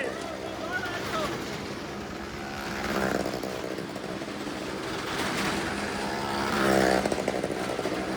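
A motorcycle engine roars throughout a stunt ride in a well-of-death show, droning loud and steady with rising revs and swells, and crowd noise mixed in.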